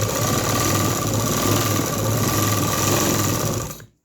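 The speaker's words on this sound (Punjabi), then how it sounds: "ਮੈਂ ਫਿਟਿੰਗ ਦੀਆਂ ਸਲਾਈਆਂ ਲਾ ਰਹੀ ਹਾਂ" A sewing machine stitching the fitting seam on a kameez, a fast, steady mechanical whir heard up close, running continuously before stopping abruptly at the end.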